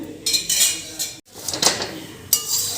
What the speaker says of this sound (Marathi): ह्याच्यातसुद्धा आपल्याला एक चमचावर इतपत तेल टाकायचं आहे आणि व्यवस्थित भाजून घ्यायचं आहे